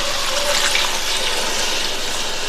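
Water is poured into a pan of cauliflower kurma during home cooking, a steady, continuous splashing pour that stays loud and even throughout, with no talking.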